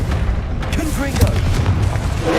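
A booming fire-spell blast from Hogwarts Legacy on PS5, a heavy explosive burst rolling across the scene amid game noise, with a voice speaking over it.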